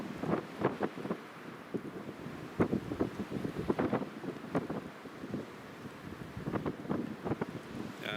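Strong gusting wind roars across the microphone at Newcastle International Airport during Storm Otto, with steady buffeting broken by repeated sharp gusts and thumps, with no voices.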